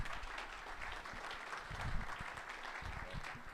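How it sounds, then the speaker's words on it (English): An audience at an entrepreneurship talk breaks into steady applause for the speaker, a dense wash of many hands clapping at moderate distance, continuous and fairly soft. "let's give John a big round of applause"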